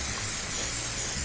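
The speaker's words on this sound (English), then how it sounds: "We're going to spray our waffle" Cooking spray hisses steadily onto a hot waffle maker for eggless waffles, a single close, continuous burst with no voices.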